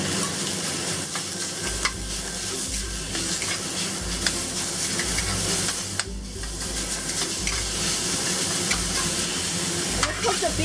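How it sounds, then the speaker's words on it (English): Minced beef fries with ginger and garlic in a hot pan, a steady close sizzle broken by repeated stirring scrapes and clacks of a spatula, with a low rumble underneath. "Cook the beef for about a minute."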